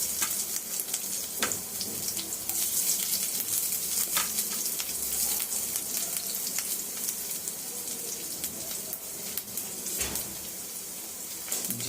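Ginger, garlic and curry leaves frying in hot oil make a dense, continuous hiss and crackle with scattered pops. The sound is close and steady throughout, and no one speaks.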